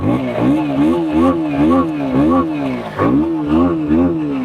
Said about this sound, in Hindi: सो ये चालू हो गया बाइक, और इसका जो साइलेंसर है,